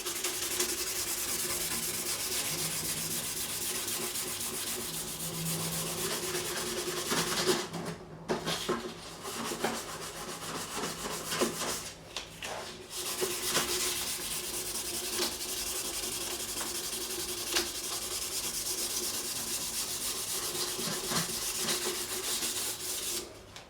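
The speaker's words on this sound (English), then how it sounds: "going to finish off by hand with some 400 grit" Someone hand-sands a bouzouki with 400 grit sandpaper, making close, continuous rubbing strokes that stop briefly twice before carrying on.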